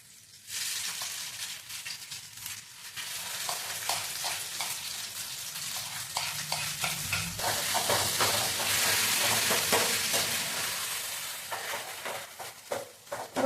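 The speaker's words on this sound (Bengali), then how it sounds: "ঘিয়ের সঙ্গে এটাকে ভাজতে হবে, আর ঘিও সাফিসিয়েন্ট দিতে হবে।" Chana dal fries in ghee for halwa with a loud, continuous sizzle that swells in the middle, punctuated by the scrape and clatter of stirring, then eases off toward the end.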